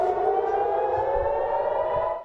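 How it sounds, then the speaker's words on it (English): A civil defense siren warning of incoming rockets wails loudly and steadily on a sustained, slightly wavering tone, with faint low thumps underneath. "the second that siren, that alert goes off saying rockets are incoming"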